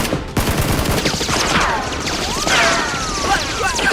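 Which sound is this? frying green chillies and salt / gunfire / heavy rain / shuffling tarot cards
gunfire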